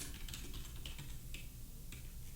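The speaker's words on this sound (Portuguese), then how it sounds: "E eu vou mandar dar um enter para continuar" Computer keyboard being typed on at a desk, a few quiet scattered key clicks ending with a press of the enter key, faint and close.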